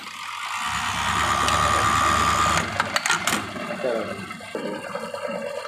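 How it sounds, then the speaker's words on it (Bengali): A buttonhole sewing machine whirs steadily for a couple of seconds after a single press of its foot pedal, then stops with clanking mechanical clicks and rattles as the cycle ends. "এখন এই যে এই প্যাডেল দিয়ে মেশিন চালানো, একবার চাপ দেবে, মাত্র একবার চাপ দিলেই আপনার বাটন হোল হয়ে যাবে"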